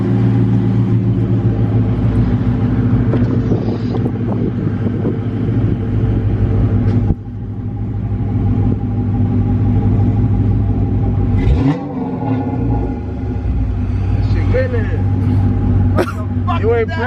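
A 2018 Dodge Charger fitted with Super 10 mufflers and a resonator delete runs close and loud, with a deep, steady exhaust drone and occasional rises in pitch while people talk nearby.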